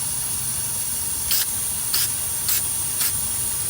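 Aerosol spray can laying a light primer coat on a car body during a DIY rust repair, heard as four short hissing bursts about half a second apart over a steady background hum.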